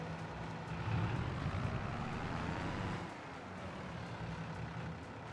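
A farm vehicle in Landwirtschafts-Simulator 22 drives off with a steady engine drone and low rumble, fairly faint. The engine swells briefly, then settles to a constant hum.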